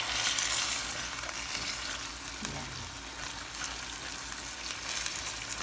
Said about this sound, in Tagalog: sangkutsahin lang natin yung medyo iga-iga bago lagyan natin siya ng sabaw na para lumambot yung ating lulutuin